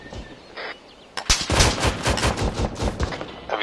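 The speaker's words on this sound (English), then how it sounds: "There's an MG there, can you suppress it?" Sustained machine-gun fire in the military shooter Arma 3, with a few shots followed by a long rapid burst of loud, sharp reports, fairly close.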